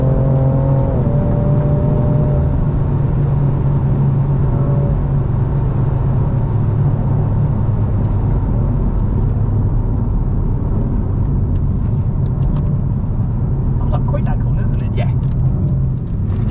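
BMW M4 Competition engine pulling hard around the Thruxton race circuit, a loud continuous in-cabin drone with the tone climbing through gears, and a voice talking over it.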